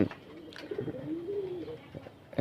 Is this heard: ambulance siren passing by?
no